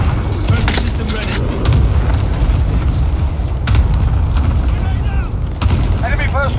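Battle in Call of Duty: Modern Warfare (2019) on a scrapyard map: heavy booming blasts of explosions and gunfire, with several sharp loud bursts over a constant rumble and game voice chatter.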